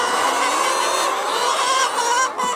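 Free-range chickens packed together in a henhouse, giving a steady dense wash of clucking and flock noise throughout, fairly loud and close with no speech.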